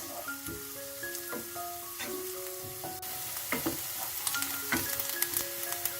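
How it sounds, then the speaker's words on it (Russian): Chopped onion frying in vegetable oil in a pan, a soft continuous sizzle with crackling pops and occasional stirring scrapes, while faint background music plays underneath. "Лук будем обжаривать приблизительно 3-4 минуты."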